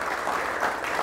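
A church congregation claps together, a dense patter of hands filling the room for about a second, steady and close with no voices over it.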